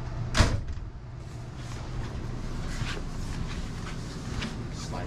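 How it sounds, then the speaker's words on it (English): The door of a 2022 Thor Omni XG32 4x4 motorhome slams once with a sharp thud near the start, followed by a steady low hum from the idling vehicle and air conditioning. "Shut the door."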